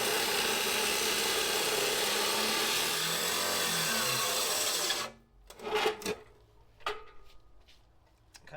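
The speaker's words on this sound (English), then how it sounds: "The tool steel stuff is what we're cutting now, and it is really difficult to cut, even for this industrial" An industrial abrasive saw grinds through tool steel in a loud, harsh, continuous screech, then cuts off suddenly, leaving a few scattered clanks and knocks of metal being handled.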